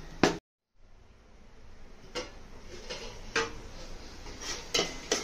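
Prawns stirred into softened tomatoes in a cooking pan: a few sparse, light clinks and scrapes of a spoon against the metal pan, close and fairly quiet, separated by short pauses.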